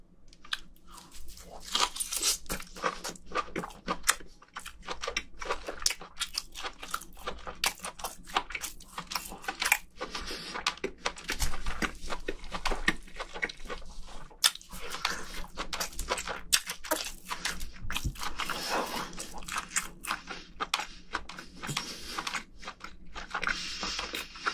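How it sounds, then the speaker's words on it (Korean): Close, steady crunching, biting and chewing of a large lobster dipped in its own innards, loud and repeated throughout with no talk, recorded up close. "내장에다가 찍어 먹으면 맛있다는데 한번 먹어볼게요"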